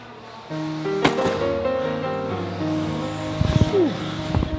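Toy cars racing at a Toys for Tots warehouse event: steady whining motor tones with a sharp impact near the start and a rising whir and squeal toward the end, fairly close and continuous.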